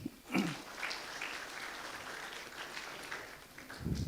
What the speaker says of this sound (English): Give him applause.